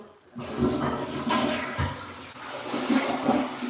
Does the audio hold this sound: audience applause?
no